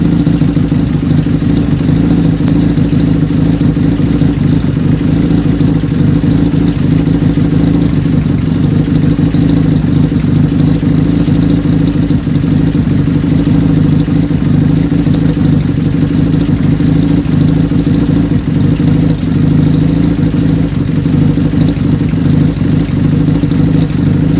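A Honda Super Dream motorcycle engine idles steadily and loudly up close, a constant low mechanical drone with no revving or changes in pace as it runs the carburettors dry, no voices.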